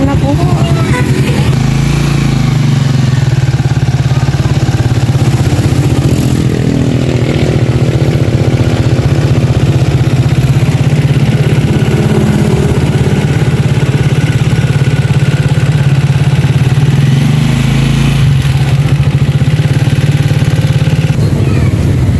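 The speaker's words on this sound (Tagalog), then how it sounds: "Tricycle na po." A motorized tricycle engine idles steadily and loudly close by for the whole stretch, with a constant low rumble on a hot day in a Philippine town.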